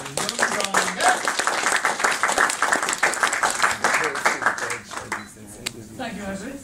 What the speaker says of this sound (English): asking Jon Garrett to the stage with a round of applause